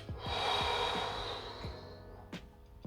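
Slow, audible breaths drawn in and pushed out during a yoga class, a long airy exhale followed by softer intakes, close and quiet with no talking.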